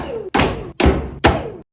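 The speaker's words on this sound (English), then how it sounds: "I probably shouldn't have fucking banged this shit with a hammer" A hammer strikes a car part during a 2JZ engine swap into an FRS, three heavy metallic thuds at an even pace, loud and close with brief decays and no talking.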